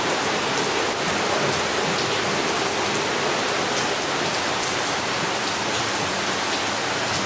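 Steady rain in Tokyo, Japan at the tail end of the rainy season, with drains still running: a continuous, dense hiss of falling water and runoff filling the whole scene, fairly loud and even throughout, with no voices.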